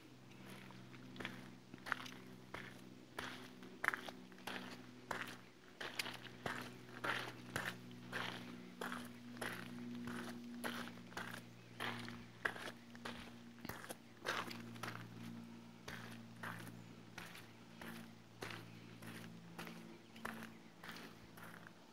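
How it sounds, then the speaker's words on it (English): Footsteps on a park path outdoors, a regular rhythm of soft crunching steps close by, with a faint steady hum beneath. "That's my footsteps you hear."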